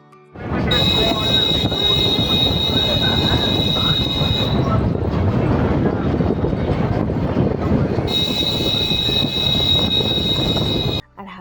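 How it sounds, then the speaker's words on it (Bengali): A local train rolls on toward Kolkata with a loud, continuous rumble and clatter of wheels on rails, a high whine drifting in and out, close and heavy throughout. "চলো ট্রেনে করে টুকটুক করে আবার এগোতে থাকি বাড়ির দিকে"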